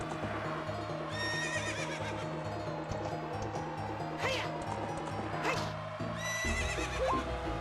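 Epona, the horse in Zelda: Sands of Time, whinnies loudly and more than once over steady clip-clop hoofbeats, with game music running throughout.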